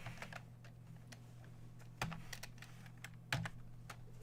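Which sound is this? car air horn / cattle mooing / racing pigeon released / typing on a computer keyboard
typing on a computer keyboard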